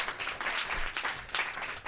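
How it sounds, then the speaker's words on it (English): Audience applause for a volunteer named Emmy, a lively burst of many hands clapping with uneven surges and a few louder claps standing out close by. "let's give Emmy a round of applause"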